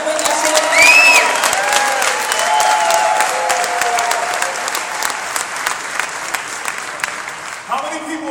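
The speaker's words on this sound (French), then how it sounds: "So let's give Shane and Josie Moran a big round of applause." Organo Gold convention audience in Montreal applauding Shane and Josie Moran: dense, loud sustained clapping with cheers and whistles, tapering slightly toward the end.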